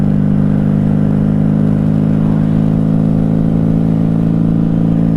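A black rhino-lined 1994 Honda Magna 750 motorcycle engine drones loud and close while riding, a steady low hum with a constant whir and no pauses.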